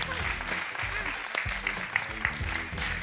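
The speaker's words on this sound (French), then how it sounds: "sous les applaudissements du public" A television game show studio audience claps steadily as contestants take their places for a mime round, a dense even patter of hands with scattered louder claps.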